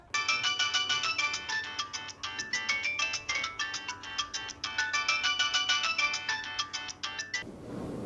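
A mobile phone rings with a melodic ringtone late at night, a loud, clear repeating tune that plays steadily for several seconds and then cuts off.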